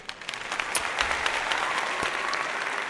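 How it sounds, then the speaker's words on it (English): An audience breaks into applause at a live stream event, a dense burst of clapping that stays loud and steady for a few seconds. "One more applause just because."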